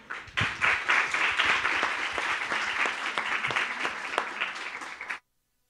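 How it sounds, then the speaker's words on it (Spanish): An audience at a panel on media and polarization breaks into dense, steady applause, many hands clapping together at an even loudness for about five seconds before cutting off sharply. "Un aplauso para ella."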